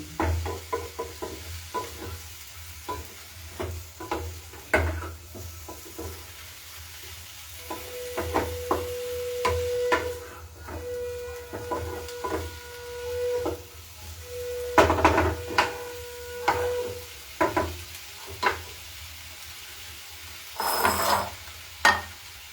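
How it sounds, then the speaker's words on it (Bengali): Mushrooms fry with butter, garlic and onion in a pan, a soft sizzle under repeated stirring scrapes and utensil clinks, with a few brief metallic squeaks. "বাটার এবং গার্লিক অনিয়নের সাথে একটু কিছুক্ষণ ভাজা হবে"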